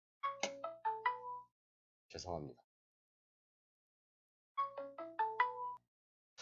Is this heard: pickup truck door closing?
no